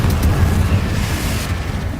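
A Confringo fireball spell explodes in a wizard game, a loud, sustained low rumbling blast that fills the whole moment with no voices over it.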